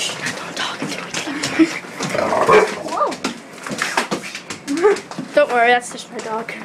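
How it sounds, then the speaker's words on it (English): A dog whimpers and yelps in short high cries amid hushed, tense voices in a zombie-themed home skit, the whines rising near the end over the talking. "Don't worry, that's just my dog."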